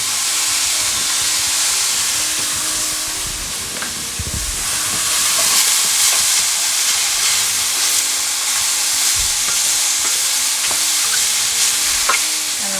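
Celery, carrots and shallots sizzle in a pan with cooking mushrooms, a steady loud frying hiss broken by scraping stirring strokes at intervals.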